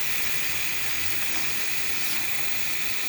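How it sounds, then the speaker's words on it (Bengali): Pointed gourd and potato pieces sizzle in a spice paste, a steady, close, bright hiss that holds evenly throughout with no talk over it. "পটল আলু দিয়ে দিলাম মশলার মধ্যে, দিয়ে একটু কষানো হবে"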